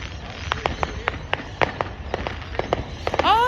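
Distant fireworks going off across suburbs, seen from a rooftop: a run of sharp, faint cracks and pops spaced irregularly, ending with a brief whistling streak as one launches.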